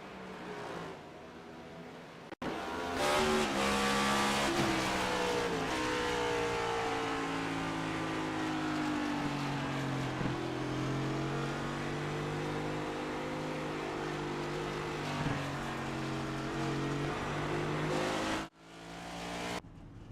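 Next Gen stock cars, a Dodge among them, race in a video game league: loud, droning engine tones rise and fall in pitch as the cars accelerate and pass, then cut off abruptly near the end.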